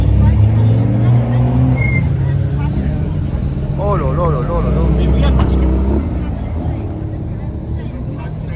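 Cars rumble and drone past at the Nürburgring, a loud steady engine roar up close with rising and falling revs, while a man exclaims excitedly over the noise.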